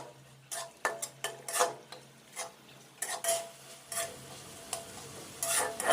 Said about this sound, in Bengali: এবার আমি কলিজাগুলো মশলার সাথে বেশ অনেকক্ষণ ধরেই কষাতে থাকবো।